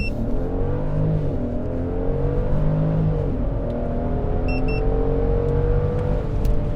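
A 2022 Genesis GV70 3.5T pulls away hard from a standstill in comfort mode, its engine drone rising steadily from inside the cabin, dipping at a gear change and climbing again, loud and continuous.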